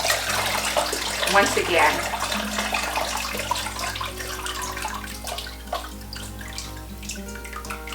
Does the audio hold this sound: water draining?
yes